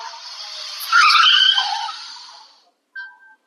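A car skids as the driver brakes hard on a rural road, a loud rising tire squeal lasting about two seconds, then a short high cry as it ends, with no talk.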